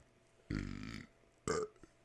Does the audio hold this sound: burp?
yes